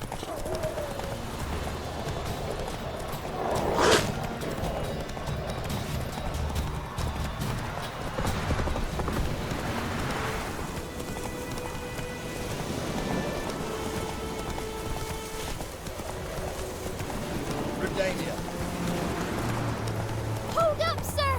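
Hooves of Roach, the horse in The Witcher 3, gallop in a steady clip-clop rhythm through rain and distant thunder, with voices talking over the hoofbeats throughout.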